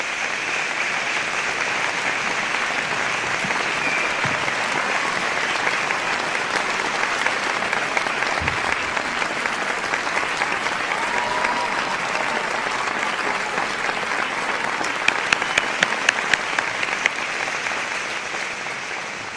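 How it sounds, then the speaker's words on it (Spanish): Sustained applause from a concert audience at a live tribute concert with a municipal symphony orchestra, dense and steady for about twenty seconds, with a few sharper claps standing out near the end. "Por favor, un fuerte aplauso"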